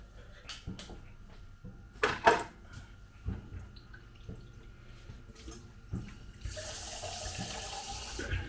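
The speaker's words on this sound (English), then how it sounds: "put a bit of cold water in it." Cold water running from a kitchen tap into a pan, a steady stream with clanks and knocks of the pan, the flow louder toward the end.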